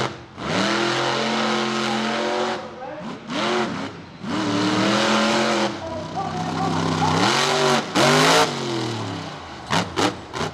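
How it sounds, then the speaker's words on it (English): The Jester monster truck roars over a stack of buses at a monster truck rallycross at Charlotte Motor Speedway. Its loud engine surges and revs in repeated bursts with rising pitch sweeps, and an announcer talks over it. "The biggest air of the night we've seen so far out of Jester heading over that bus stack"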